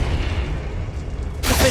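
Confringo fire spell blasting in Hogwarts Legacy, a low rumbling boom that ends in a sudden bright burst of noise near the close.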